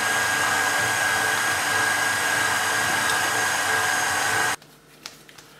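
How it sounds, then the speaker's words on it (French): A stand mixer kneads French-style cinnamon bun dough enriched with soft butter, giving a loud, steady motor whir that runs continuously for about four and a half seconds, then cuts off abruptly, leaving a quiet room with a few faint clicks. "On a travaillé la pâte au robot pendant 10 minutes"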